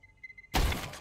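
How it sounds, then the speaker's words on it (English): Flashbang grenade in Counter-Strike 2, a single sudden loud bang with a bright shattering burst that fades quickly, following a few faint tones. "I'm throwing flashbang."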